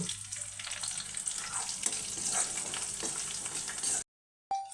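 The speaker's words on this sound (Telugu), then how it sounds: "ఉల్లిగడ్డ కొద్దిగా వేగిన తర్వాత పచ్చిమిర్చి ముక్కలు కరివేపాకు" Chopped onion, green chillies and curry leaves fry in hot oil with popped tempering seeds in a pan, a steady close crackling sizzle that cuts out briefly near the end before resuming.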